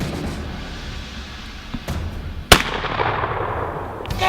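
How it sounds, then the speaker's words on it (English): A single sharp shotgun-style blast rings out mid-clip at a Merriam turkey during a hunt, sudden and loud against quiet outdoor background, then fading away. "I gave him the go to shoot."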